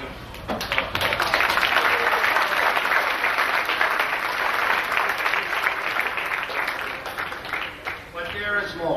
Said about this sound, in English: They all deserve a rounding of applause.